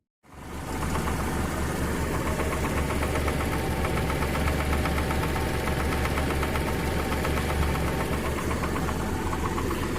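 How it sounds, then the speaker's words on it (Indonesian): A Daihatsu Espass engine idles with a fast, steady ticking knock repeating evenly over a rough mechanical hum, close and continuous after a sudden start. "Bagi yang mendengar suara tek tek tek tek tek tek tek tek itu dari rotak ya teman-teman."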